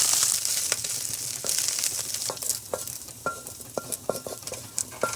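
Ground beef browns in a hot pan with a constant sizzle while a utensil stirs and scrapes through it, adding sharp clicks and taps against the pan, close by with no voices.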